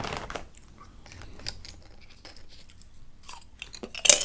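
Healthy chips being crunched and chewed up close, crisp bites followed by a run of irregular crackling munches and a loud crunch at the end, with no talking.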